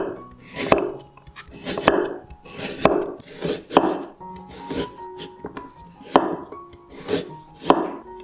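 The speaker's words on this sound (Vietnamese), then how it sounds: "cà rốt chúng ta sẽ thái thành những miếng mỏng" Rhythmic knife chops slicing carrots into thin pieces on a cutting board, steady strokes roughly every second, close and crisp, with no talking.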